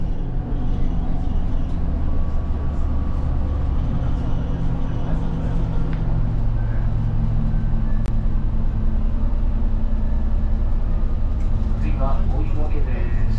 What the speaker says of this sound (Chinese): 现在是在西东京巴士的五龙石路公交车上。